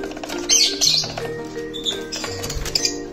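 Pet lovebirds of Opaline Lutino and pastel color mutations give scattered sharp squawks and chirps in short bursts, fairly close, over a steady low background hum.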